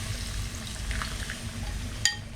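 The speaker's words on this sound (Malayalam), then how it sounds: "ഇതിലേക്ക് നമ്മൾ പുളി വെള്ളത്തിലിട്ട് വെച്ചത്" Soaked kudampuli tamarind water is poured into a needle fish curry in a Kerala kitchen, giving a soft liquid trickle over a low background rumble, ending in a sharp clink of a vessel near the end.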